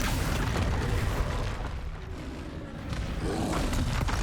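A Confringo blast spell explodes in the Hogwarts Legacy game, a loud, dense booming rumble that swells and roars across the whole moment without any speech.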